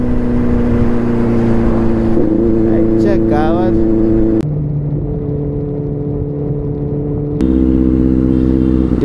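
A Benelli 600i motorcycle engine drones steadily and loud while riding along a rough village road, its pitch shifting between gears, with a rider talking over it.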